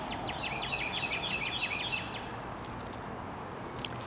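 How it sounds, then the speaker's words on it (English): Birds chirp outdoors in the afternoon in a quick, evenly spaced run of high, faint tweets for about two seconds, followed by a soft, steady outdoor hush. "Those are birds. Every afternoon."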